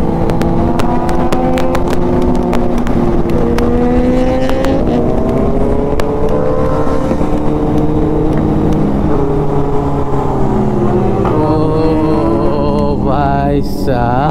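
Superbikes, including a Ninja H2, BMW S1000RR, ZX10R and Hayabusa, drag race on the Agra–Lucknow expressway with a loud, continuous layered engine roar whose pitch climbs and shifts as they accelerate together.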